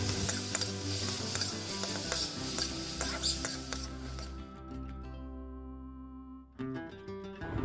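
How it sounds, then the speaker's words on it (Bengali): Tomatoes and green chillies frying in a pan with stirring and scraping, a steady sizzle under clattering utensil strokes that briefly quiets before the sizzle and stirring return near the end. "টমেটো আর লঙ্কাটা হালকা ভাজা ভাজা হয়ে গেছে এবার দিয়ে দিচ্ছি সেই ডাটা সমেত ধনে পাতাটা"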